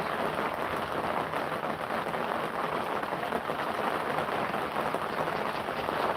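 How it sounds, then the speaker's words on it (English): Steady rain falls outside a house, a continuous even hiss of drops with no breaks, moderately quiet and heard alone without any talking. "rain is falling and in the house it is really dark"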